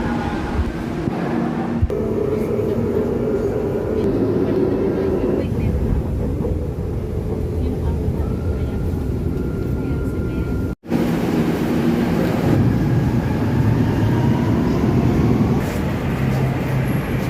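An MRT train at Boni Boulevard station in Mandaluyong City rumbles loudly and continuously with a brief break partway, broadband rail noise filling the station.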